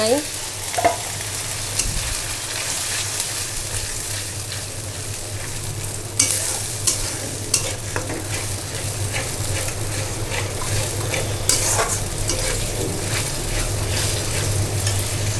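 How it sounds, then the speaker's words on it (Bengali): Roast spices with fried onion frying in a pan, a steady sizzle throughout with intermittent scraping clinks of a spoon stirring against the metal, close and fairly loud. "রোস্টের মশলা দিয়ে দিছি মশলা সুন্দর কষে উঠছে"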